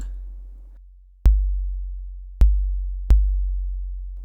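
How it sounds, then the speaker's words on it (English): Sub-bass kick drum from the Sampleson SUB analog drum emulation plugin, three deep booming hits with long decaying tails, the first two spaced wider and the last closer, loud and isolated. "So bring out the decay and you can really hear that sub."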